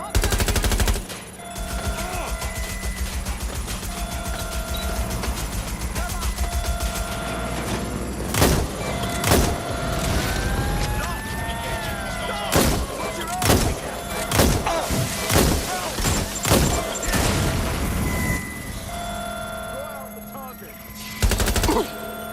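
Gunfire in the video game Watch Dogs Legion: repeated loud bursts of automatic fire and sharp single shots, most dense in the second half, over a steady game background with faint voices.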